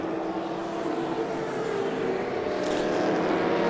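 Race car in a 24-hour endurance race, the 01 driven by Memo Rojas, roaring steadily and loudly with a sustained engine drone that swells slightly toward the end, with no speech.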